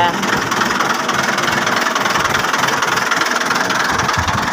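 A 2014-model tractor engine idles close by, a loud, steady, unbroken diesel rumble with a fine rapid knock running through the whole stretch.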